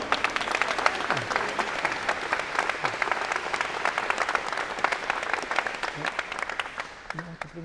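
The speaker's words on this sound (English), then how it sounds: "So give them another round of applause." Audience applause at a 2022 College of Engineering & Computer Science convocation: sustained, dense clapping from a large crowd across the whole stretch, with a few voices and cheers mixed in and tapering slightly near the end.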